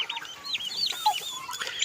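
Many turkeys cluck and chirp together at feeding in a busy, overlapping chatter, close by with no pauses.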